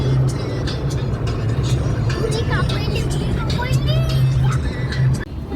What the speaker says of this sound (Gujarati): રસ્તામાં કેવી ગાડીઓ બધી હતી નોખી નોખી.